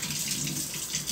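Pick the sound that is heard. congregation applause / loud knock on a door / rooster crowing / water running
water running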